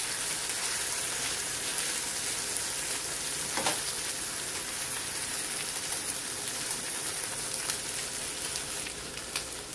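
An omelette cooking in a frying pan gives off a steady, even hiss like light rain, close and unbroken, with one faint utensil tap partway through and no speech.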